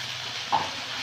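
Spices being stirred into sushni greens frying in a pan, a steady soft sizzle throughout with one brief scrape of the spatula midway.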